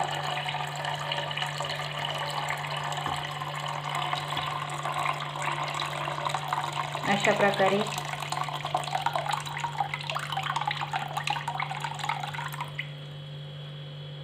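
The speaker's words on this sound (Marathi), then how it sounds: "वरचं वरचं आपल्याला सगळं पाणी यामध्ये ओतायचं आहे" Water pours steadily and gurgles into a container, close and continuous under a low electrical hum, stopping near the end; a few quiet spoken words.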